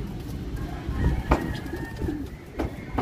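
Pigeons at a pigeon training loft in Candelaria, Quezon, cooing and fluttering nearby, with a few sharper calls and wing or perch sounds standing out over a steady outdoor background.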